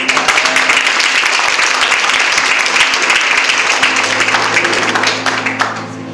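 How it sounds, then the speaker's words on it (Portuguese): An audience at a couples' retreat church gathering applauds loudly and continuously, a thick wash of many hands clapping that thins out near the end. "Olha só, vamos aplaudir aí?"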